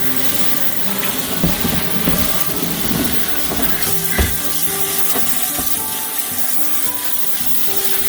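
Steady rushing spray of hot water runs continuously, with scattered clatters and rubbing noises as parts of a Seeburg 3WA jukebox are scrubbed beneath it.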